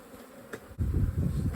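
Honey bees buzz at a hive that is trying to swarm, a steady dense hum that swells loudly partway through and continues close and strong to the end.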